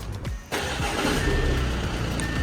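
A 2018 Audi A6, started remotely with a smart key, cranks briefly and then catches half a second in. It settles into a steady, fairly loud idle close by, with no talking.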